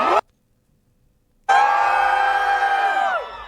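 After a brief near-silent pause, an audience at a drag show at TwitchCon 2023 bursts into loud shouting and high-pitched cheering, which holds strong for about two seconds before trailing off.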